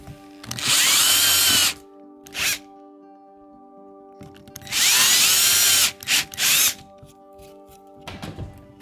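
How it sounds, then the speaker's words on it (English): A power drill with a large countersink bit bores into pre-drilled holes in wood for a small frame shelf, making a few loud, close whirring bursts of a second or so with brief pauses between them. "So I'm going to countersink my holes now"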